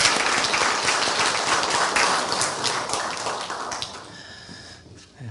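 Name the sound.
audience applause of encouragement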